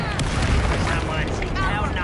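The Confringo blasting curse explodes during a fight in Hogwarts Legacy, producing a loud, dense rumbling boom that fills the whole moment, with a voice speaking over the blast.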